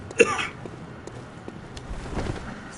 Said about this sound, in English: I'm totally not smoking, I'm just coughing.